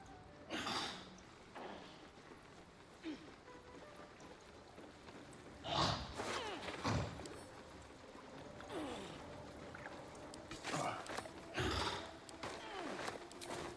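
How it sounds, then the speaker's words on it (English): Gurgling, sighing water elemental creature noises in Baldur's Gate 3, soft and intermittent bursts spread across the scene, rising in a few louder surges over quiet ambient game sound. "it's the water elemental making those noises"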